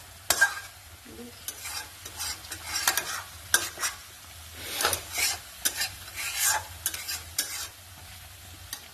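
Koi fish curry with spices and potatoes frying in oil, a utensil scraping and stirring the pan in irregular strokes over a soft sizzle, close and fairly quiet.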